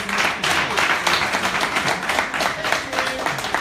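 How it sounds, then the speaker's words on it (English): Applause from an audience honoring Chief Bimbo Robert Falaya, steady and continuous crowd clapping with possible murmurs mixed in, sustained throughout. "Please, a round of applause."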